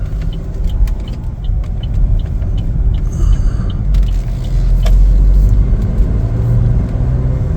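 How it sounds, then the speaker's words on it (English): A 2025 Chevrolet Trax Activ on a test drive gives a steady low road rumble and engine drone from inside the cabin, with no talk and a few small clicks and rattles over it. "Take it for a little test drive here"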